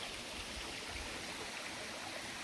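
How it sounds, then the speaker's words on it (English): Steady rushing and burbling of a small creek on a hiking trail in the Adirondack High Peaks, constant broadband water noise with no voices. "Crossing a little creek."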